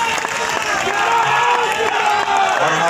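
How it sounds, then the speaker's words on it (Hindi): Young people in a crowd at an Indian political rally clap and cheer loudly and continuously, a dense wash of applause and voices. "नौजवान जो ताली बजा रहे हैं"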